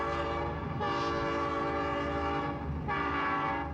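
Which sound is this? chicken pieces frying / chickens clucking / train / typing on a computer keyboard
train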